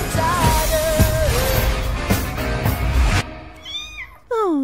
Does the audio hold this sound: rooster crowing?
no